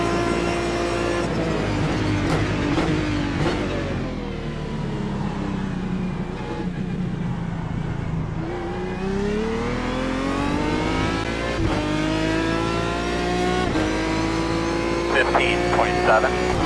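An Aston Martin DBR9 GT1 engine in iRacing howls at full throttle, loud and close, with its pitch rising through the gears and falling on shifts across several pulls, while a voice talks over it.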